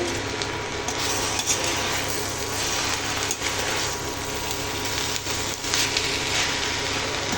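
Drumstick leaves with grated coconut are sautéed in a pan, giving a steady, hissing sizzle with faint scrapes and clinks of stirring, close and continuous with no talking.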